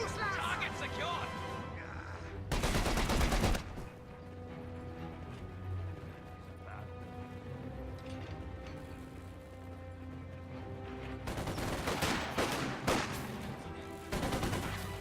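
Video game battle gunfire rattles in heavy bursts at the start and again near the end, rapid automatic volleys with scattered single shots between, loud and close.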